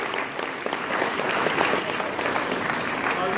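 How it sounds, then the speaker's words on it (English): Audience applause at a winter high school band concert, a dense, continuous wash of clapping from a full room, steady and fairly loud throughout. "Can we give you guys a round of applause"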